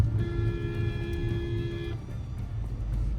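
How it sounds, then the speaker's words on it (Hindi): A Maruti Victoris car running on CNG in 4th gear, a steady low engine and road drone with a faint high whine that drops away partway through, heard from inside the cabin with no talking. "4th गियर में भागती जा रही है भाई, सीएनजी में लगी हुई है अभी गाड़ी।"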